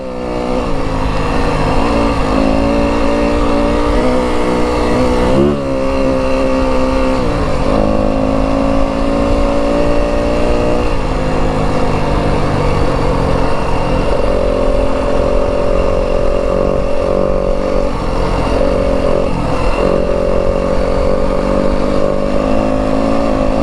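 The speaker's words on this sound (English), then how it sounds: "I'll let you guys listen to the bike here a little bit." A 2025 Yamaha WR 250F dirt bike runs loud and close, its engine note rising and falling as the throttle is worked during a ride, with steady wind and road noise underneath.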